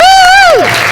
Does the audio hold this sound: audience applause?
yes